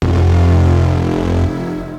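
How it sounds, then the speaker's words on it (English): A gritty FM synthesizer tone sounds loud and alone, a buzzy sustained note that holds for over a second before dropping and fading out. "Take a few gritty FM sounds like this one,"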